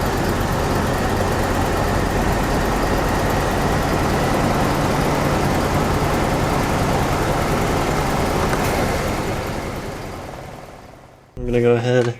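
A car engine runs steadily at a raised idle of about 2,000 RPM with the gas pedal propped open during intake valve and fuel injector carbon cleaning, a continuous loud drone that fades near the end before a brief burst of sound.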